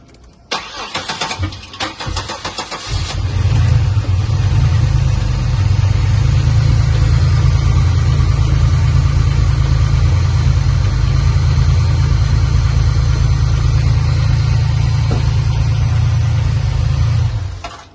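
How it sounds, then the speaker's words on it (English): A car engine cranks briefly, catches, and settles into a loud, steady idle that runs on until the end. "start the car."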